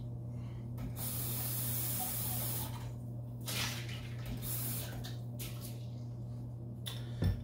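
Running water from a tap hisses steadily as a cocktail glass or tool gets a quick rinse, close and continuous with faint splashing changes, no one speaking.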